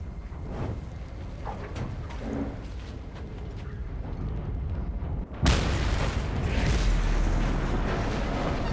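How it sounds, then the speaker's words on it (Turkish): A sudden loud, deep explosion in the video game Mad Max bursts in after a stretch of low rumbling noise, then a heavy roaring blast sustains through the rest. "Oldukça görkemli bir patlama oldu."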